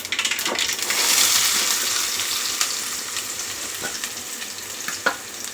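Onion frying in oil with mustard seeds and cumin for an egg curry: a moderate steady sizzle with scattered pops and small clinks, swelling early and then settling.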